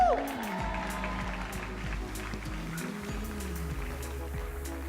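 Applause from the audience at the Boldly Me Fashion Show 2018, a steady wash of clapping and scattered cheers over a low musical hum, running through the whole stretch at moderate loudness.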